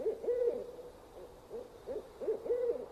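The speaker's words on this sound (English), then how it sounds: "Somewhere in the darkness an owl hooted." An owl hoots repeatedly in the dark of a summer night, a series of low hoots in short bursts over faint background noise, with no voices.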